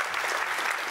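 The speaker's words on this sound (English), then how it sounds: "let's give them an applause" Steady, even applause from a conference audience at a science summit, a continuous wash of many hands clapping at moderate distance, with no voices.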